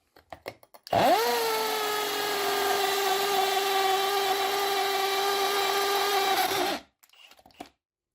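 A Yato YT-82797 cordless drill driver in hammer mode whirs up sharply, runs at a loud, steady pitch close by for about six seconds, then winds down and stops.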